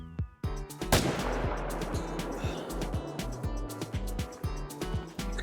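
Rifle shots ring out in theHunter: Call of the Wild, several sharp reports spaced through the stretch, loud and close, over a steady engine-like hum with no talking.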